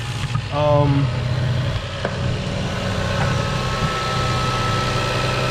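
A Lexus car with loose, brittle lines and faulty wiring idles steadily nearby, a low continuous rumble with a brief tonal whine near the start and no talk over it.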